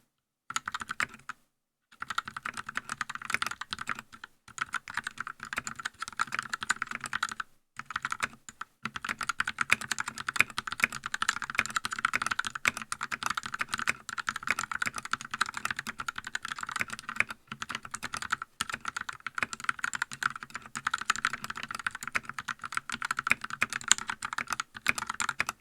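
Close, crisp clicky keystrokes on a computer keyboard run in irregular bursts with brief pauses, then continue as steady fast typing.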